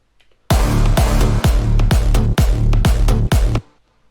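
A loud, punchy percussion element from a bigroom electronic dance track drop, with heavy booming hits repeating in a steady driving pulse of about seven strikes with dense noisy tails, up front and alone.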